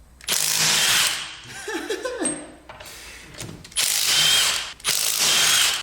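A ratchet wrench working an old lug nut off a BMW E30's wheel: bursts of rapid, close metallic clicking, separated by pauses with scraping and handling noises.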